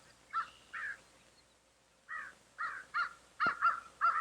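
Crows caw in a series of harsh calls: two at first, then a pause, then a quicker run of six or seven, moderately close against a quiet background, one sharp knock among them.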